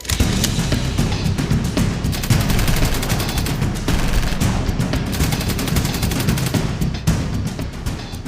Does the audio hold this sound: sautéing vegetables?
no